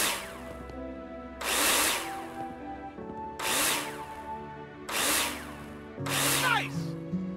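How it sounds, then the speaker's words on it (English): A power drill in the Builder Simulator video game drives screws into plasterboard in four loud bursts of about a second each. The bursts are spaced by short gaps with quiet musical tones beneath. "Take your drill out and screw them in."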